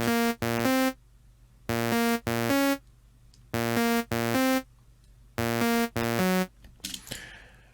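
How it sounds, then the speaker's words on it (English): A bright, buzzy simple saw-wave synth lead in the Vital synth plays a short repeating phrase of clipped notes in four groups, loud and alone, ending with a brief noisy tail. "just a simple saw wave, and this lead line sounds like this."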